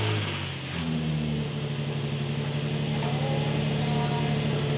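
A Nissan 240SX engine with a new clutch idles steadily while warming up, a low continuous hum with a faint whine, close by and alone.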